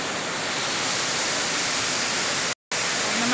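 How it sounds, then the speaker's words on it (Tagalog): Steady, loud broadband hiss of heavy rain falling outdoors, continuous and close, with a brief dropout near the end. "Mga kapatid, umuulan."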